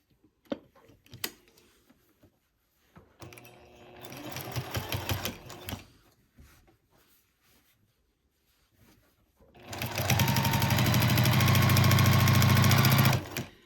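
Sewing machine stitching the last corner of a quilt's binding, running in a short burst early on and then a steady, loud sustained run of rapid stitching near the end, with quiet handling pauses between.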